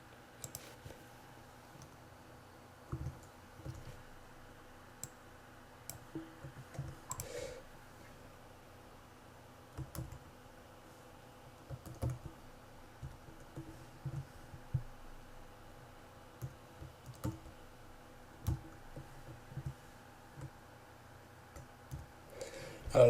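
Quiet clicking of computer keyboard keys as a formula is entered in Excel, light irregular taps in short bursts over a steady low hum, no talking.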